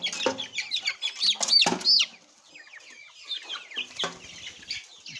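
A flock of broiler chickens cluck loudly up close in bursts of overlapping calls, then quieter scattered clucks and rustling follow, with no speech.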